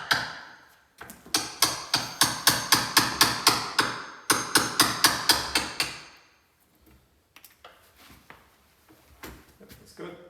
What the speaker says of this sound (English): So you've got the chisel the right way, which is good.